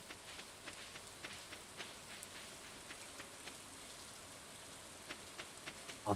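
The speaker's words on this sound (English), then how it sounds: "You have to wait for the rain sound effects to load." Rain in the farming video game Stardew Valley patters softly and steadily, a faint, even hiss scattered with small drop ticks throughout, with no one talking.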